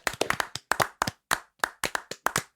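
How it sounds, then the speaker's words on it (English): A few people clapping for the fire service, a short run of sharp, distinct hand claps in an uneven rhythm, close and fairly quiet, with no other sound between them. "applaud for the fire service?"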